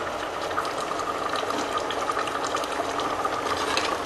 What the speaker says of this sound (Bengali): গরম মশলা দিয়ে আমি একটু ফুটিয়ে নেব